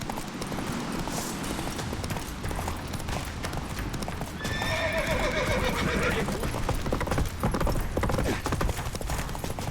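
Roach, Geralt's horse in Witcher 3, gallops with rapid, continuous hoofbeats, close and loud, and lets out a whinny partway through amid game action noise.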